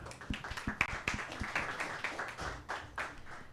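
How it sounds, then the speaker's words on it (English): Audience clapping at the ADMI presidential candidate debate: a ragged run of close, sharp handclaps that thickens into steady applause for about three and a half seconds, with no talking over it. "Round of applause, please."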